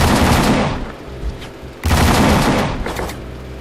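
Gunshots in a shooting video game, with dense, loud volleys of rapid fire close by in two heavy bursts split by a short quieter gap.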